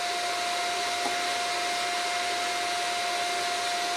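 TIG welding with a Lidl Parkside PTMI 180A1 inverter welder, a steady unbroken hiss with a thin constant high whine, close and even in level for the whole stretch.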